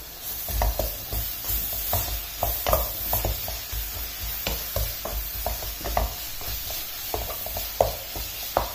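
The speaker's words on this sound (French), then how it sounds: "Et vous mélangez le tout." Leeks and parsley being stirred together in a hot pan, a low sizzle broken by repeated scraping and tapping strokes of a utensil in an uneven rhythm, close and quiet with no talking.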